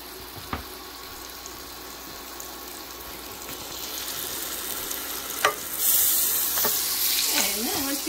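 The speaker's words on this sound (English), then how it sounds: "pop 2 more tablespoons of butter into your pan" Butter melting in a hot pan for boneless pork chops with white wine sauce, a soft steady sizzle that swells louder partway through, with a few sharp clinks and scrapes near the end.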